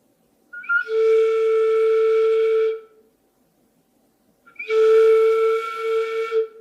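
A beginner blows two sustained notes on a transverse flute, each breathy and bright and lasting about two seconds, separated by a short silence, with no talk.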